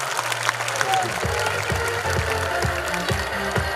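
An audience applauds children at a family community gathering, with dense, steady hand clapping that holds for a few seconds. A voice is faintly heard underneath.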